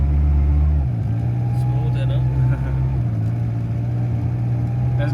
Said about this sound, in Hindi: डाउन शिफ्टिंग देखिए सर